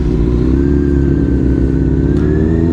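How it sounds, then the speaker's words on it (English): A motorcycle engine idles loud and close, holding a steady low throb with a faint rising whine for nearly three seconds, with no voices over it. "I was just gonna rev it to go"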